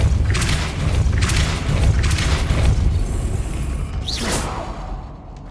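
A Depulso force spell cast in Hogwarts Legacy, a few heavy whooshing booms and thuds in quick succession over a low rumble, ending with a brief rising swish before quieting.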